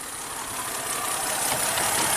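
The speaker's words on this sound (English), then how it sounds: "Cylinder number 1 is misfiring." Car engine running under light load in drive with cylinder number 1 misfiring, a steady close rumble with an uneven, rough pulse, no voices over it.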